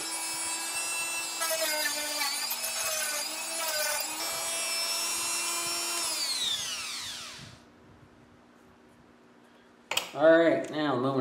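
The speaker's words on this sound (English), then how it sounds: "That little sanding thing with the rubber inside." A small handheld sanding tool with a rubber backing runs steadily with a broadband whirring buzz for several seconds, then spins down and stops, followed by a brief handling clatter close by.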